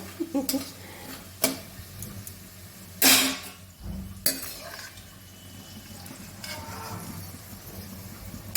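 Fried potato pieces are lifted out of hot oil in a pan with a metal utensil. Quiet clinks and scrapes against the pan are heard, along with one brief louder rattle and a faint sizzle.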